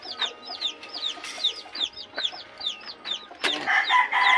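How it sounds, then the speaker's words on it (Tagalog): Chicks and chickens clucking and cheeping at feeding time, a dense run of close, rapid chirps and clucks overlapping one another, with a louder burst near the end. "Ayan, mga sisiw natin."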